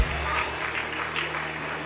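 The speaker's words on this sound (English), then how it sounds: "Let's give the Lord a clap offering." A church congregation claps together in a dense, steady wash of applause from many hands, with indistinct voices mixed in.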